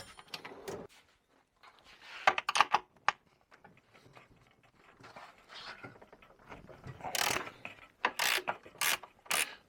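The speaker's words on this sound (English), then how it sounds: "I always end up using a ratchet wrench on." A ratchet wrench clicks in uneven short bursts while turning nuts on a Polaris Cross Country Indy snowmobile, close and fairly quiet, with pauses and clattering between strokes.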